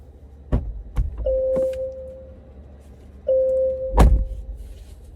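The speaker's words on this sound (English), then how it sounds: "Get the door open." Opening the door of a Jaguar I-Pace electric car brings a couple of sharp latch clunks, two short whirring hums from the frameless window dropping and rising, and a heavier thunk near the end, all close and clear.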